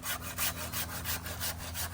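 A hand saw cuts steadily through a mesquite tree branch during pruning, with rhythmic back-and-forth strokes that rasp loudly and close with no voices.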